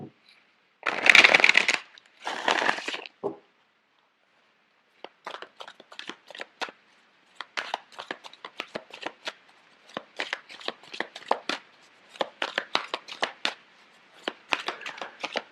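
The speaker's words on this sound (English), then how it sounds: "I'm going to shuffle the cards out for you." Tarot cards being shuffled close by, two loud riffles at first, then a long run of quick, crisp card flicks and slaps.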